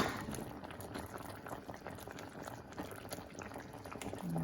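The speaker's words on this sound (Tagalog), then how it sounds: "Ayan, kumukulo na." Sinigang soup with taro and Swiss chard bubbling at a steady boil in a pot, a dense, continuous gurgle at close range with no talking.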